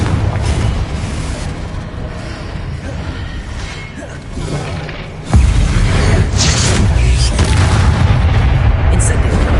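Fire-curse spell explosions in a wizarding action game burst out as deep booming blasts, with one big sudden thump midway followed by a sustained loud rumble and crackling debris.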